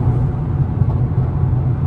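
A tuned Mercedes-AMG GT63s corners at speed, its engine a steady, loud low drone and rumble heard from inside the cabin.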